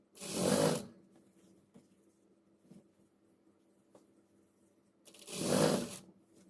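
A sewing machine stitches elastic onto pant fabric in two short whirring bursts about five seconds apart, close and clear, with quiet fabric handling between them.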